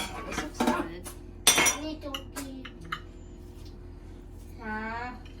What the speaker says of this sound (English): Everyone's fixing their plates.